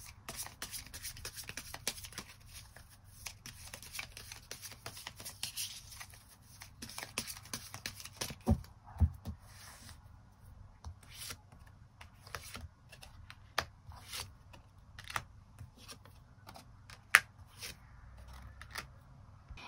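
Tarot cards are shuffled and drawn from a deck. Dry rustles and quick clicks of card edges come in uneven bursts up close, with no voice.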